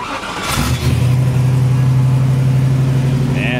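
A 1985 Jeep CJ7 with a 5.7L V8 fires up close by. A short cranking burst catches into a loud, steady, rumbling idle with a slight rev.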